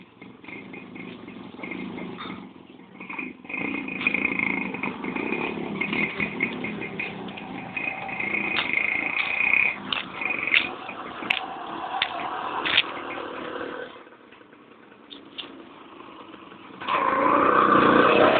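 A motorcycle tricycle engine runs steadily nearby for most of the stretch, its drone rising and dipping with a brief lull before it grows louder again near the end, with no talk over it.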